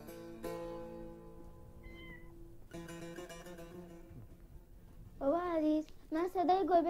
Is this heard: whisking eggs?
no